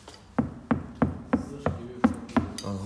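Seven evenly spaced dull knocks come from tapping on the soundproofed door of a 2019 Seat Leon FR, each thud short and damped, close and clear with no talk.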